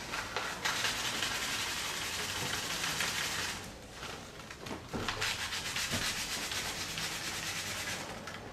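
Fir wood being sanded by hand gives a continuous, close, raspy rubbing with short breaks and changes in stroke. It is fairly loud and sounds on its own with no talking.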